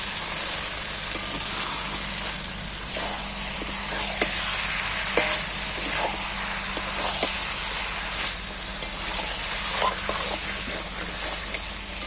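Spices with salt sauté on low heat as they are stirred, giving a continuous soft sizzling hiss dotted with occasional sharp clicks and scrapes from the spoon.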